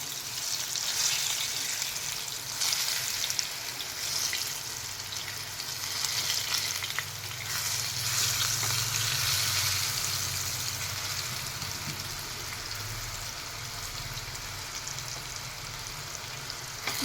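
Brinjal pieces fry in a hot pan with a steady, close sizzle and crackle that holds without a break, with no talking over it.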